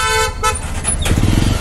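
Car horns honk repeatedly amid a badly jammed Jaipur road, long tonal blasts over a steady rumble of engines and motorbike traffic, loud and close.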